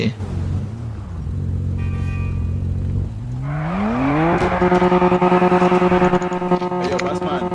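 A car in the GTA V video game revs and accelerates, its engine rising in pitch and holding a loud, close, steady roar, while players talk over it.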